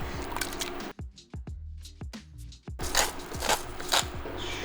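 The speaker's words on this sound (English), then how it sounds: "I like to do whole stewed tomatoes, and then I like to cut them up myself." Whole stewed tomatoes being cut up in a pot, giving wet squishing and soft scraping sounds in short bursts with brief pauses between them, close and fairly loud, with no one talking.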